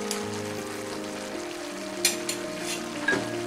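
Mutton being stirred with spices (red chilli powder, kasuri methi, salt) in a kadai, a steady sizzle with a low background hum and a few sharper scrape and clink accents, close and alone without talk.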